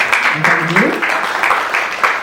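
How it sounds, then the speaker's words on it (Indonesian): Audience applause at a press conference for a dance competition festival, steady broadband clapping running throughout with a voice briefly heard over it. "Boleh tepuk tangannya."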